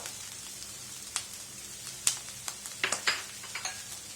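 Small pieces of coconut frying with clam meat in coconut oil for a Kerala stir-fried clam dish, giving a faint, quiet sizzle broken by scattered crackles and pops.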